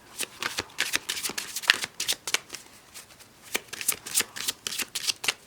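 Tarot-style empowerment cards being shuffled by hand, a steady run of crisp riffling and flicking close by, with brief pauses between bursts and no talking.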